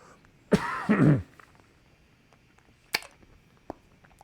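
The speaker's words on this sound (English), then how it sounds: "I got to suck on this lozenge because I'm developing a bad cough" A single harsh cough, close and fairly loud, followed by a quiet pause and a couple of faint clicks or taps.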